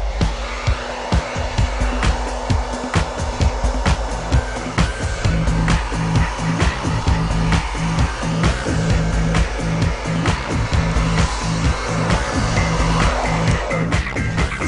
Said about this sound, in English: most blow dryers have this cool button on it